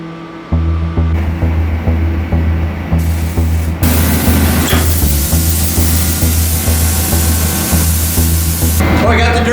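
A spray gun applying epoxy primer to a Ford truck inside a paint booth, a steady hiss of atomized spray over a rhythmic pulsing hum from booth equipment, continuous and close.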